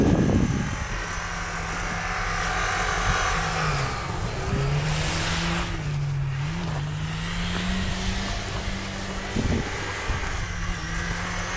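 A Lada Niva drifts, its engine droning steadily with a wavering pitch that rises and dips, heard close over broad road and wind noise with no talking.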